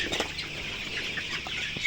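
A farm shed holding about 1500 colour broiler chickens, 31 days old, fills with soft overlapping clucks and a brief flutter of wings, steady and moderately faint.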